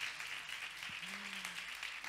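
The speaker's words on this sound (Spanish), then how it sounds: "Le damos un aplauso, por favor." Audience applause greeting a guest at a Galician talk event, a steady wash of clapping filling the whole moment at moderate distance, with a brief low murmur of voices underneath.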